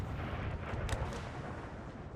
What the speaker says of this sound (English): Artillery's firing here